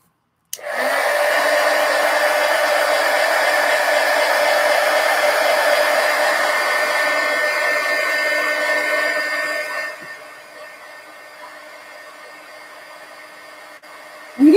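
Hair dryer blowing on a watercolor-painted coloring book page, switching on abruptly into a steady loud whooshing hum that drops to a lower setting near the end before a click.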